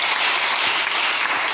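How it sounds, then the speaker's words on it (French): A church congregation breaks into steady, dense applause with cheering, a full wash of clapping hands filling the room, loud and continuous with no speech over it. "Est-ce qu'on peut acclamer le Seigneur?"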